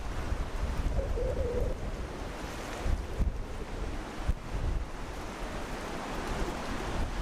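Spring wind at a lake trout fishery, buffeting the microphone with a steady rushing roar, water lapping and a bird calling faintly in the background, with no talk.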